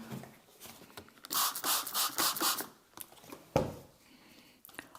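Several short hissing bursts from a spray bottle spraying water onto paint in quick succession, close by, followed by a few light taps and scrapes.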